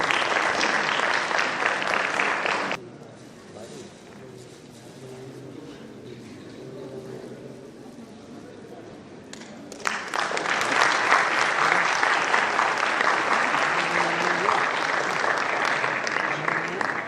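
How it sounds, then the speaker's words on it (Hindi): Loud applause from an audience at a speech event, which drops to a lull before a second, fuller wave of clapping rises and holds to the end. "तालियां।"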